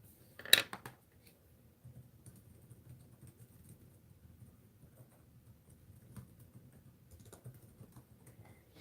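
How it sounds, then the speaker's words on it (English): Keys on a computer keyboard are tapped quietly in a quiet room, beginning with a sharp louder click and continuing as faint, irregular patter. "I'm just typing to the folks in the other one."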